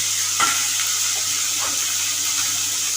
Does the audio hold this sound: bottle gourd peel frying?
yes